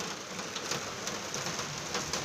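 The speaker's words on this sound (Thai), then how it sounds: "ฝนตกครับผม" Steady rain falls just outside an opened door, a close, dense hiss of drops striking surfaces with faint irregular patters and no voices over it.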